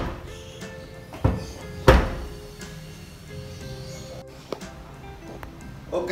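Rear tailgate of a 2018 Daihatsu Sigra X Deluxe being shut, giving a solid thunk with a second heavier slam just after, close by over a quiet background, with no talking.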